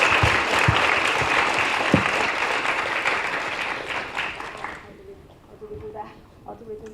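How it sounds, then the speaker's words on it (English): Audience applause for Professor Newman at the close of a lecture on economic security, dense and steady for about five seconds, then fading to a few scattered claps. "let's give Professor Newman another round of applause"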